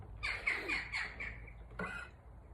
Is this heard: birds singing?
yes